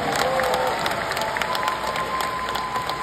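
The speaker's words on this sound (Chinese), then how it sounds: "然后掌声欢迎他回归" Concert audience at a show at Thunder Valley applauding and cheering to welcome a musician back, steady clapping with crowd noise throughout.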